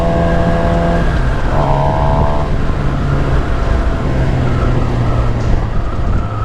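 Suzuki GSX-R750 motorcycle engine during wheelie practice, a loud steady drone with a couple of short throttle rises in pitch, heavy wind rumble throughout.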